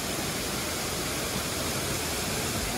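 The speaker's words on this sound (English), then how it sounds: "there you have it, your whole 104 meters of beautiful Tasmanian waterfall." Steady broadband roar of Montezuma Falls, a 104-metre waterfall in Tasmania, heard as a constant even rush of falling water with no voices.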